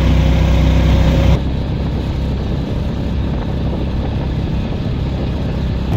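An auto rickshaw carrying three passengers on the road toward Mahuli Fort, its engine droning steadily with a constant low rumble and wind buffeting, a louder stretch at the start before settling into an even hum.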